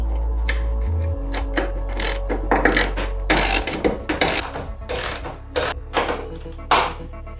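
Three strut mount nuts being snugged on a Ford Focus Mk1 during a shock absorber and lowering spring swap, a close series of ratcheting clicks and metallic turns over a low steady hum.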